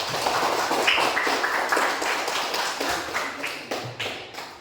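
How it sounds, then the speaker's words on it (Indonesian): A classroom group claps in applause for a presenting group, a brisk burst of many hands that tapers off over a few seconds, moderately near with no talking. "Berikan aplaus untuk kelompok 2."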